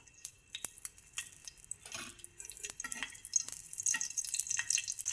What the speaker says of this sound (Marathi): छान मिरच्या कलर बदलूपर्यंत भाजत राहायचं, असं हलवायचं